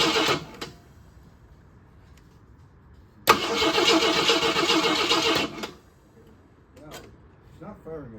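A 1988 AMC Eagle engine cranks for about two seconds without firing, a loud close starter churn that stops abruptly, with a faint voice afterward.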